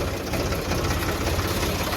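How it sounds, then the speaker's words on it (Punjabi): A John Deere tractor runs at a steady, throbbing idle-like drone for field work, with its canopy shaking and rattling in a dense, continuous mechanical clatter close by. "ਬੜੀ ਹਿੱਲ ਰਹੀ ਆ ਛਤਰੀ ਤਕੜ ਤਕੜ ਕਰ ਰਹੀ ਆ"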